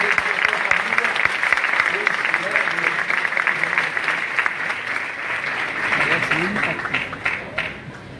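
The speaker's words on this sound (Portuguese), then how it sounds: "Vamos aplaudir o querido Paulo" A church congregation applauds Paulo after a testimony, sustained loud clapping from a crowd that carries on throughout, with cheering voices mixed in.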